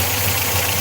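An MGB GT engine idles steadily close by, a continuous low mechanical hum with a slight knocking pulse and vibration, loud and alone with no talk.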